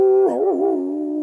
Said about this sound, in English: they heard the wolf call back, and Evan sat down again, smiling.